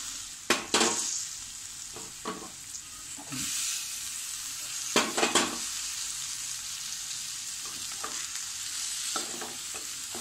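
Boiled cluster beans are stir-fried over a low flame for a simple dry vegetable dish, a steady sizzle broken by repeated sharp scrapes and clatters of a spatula against the pan.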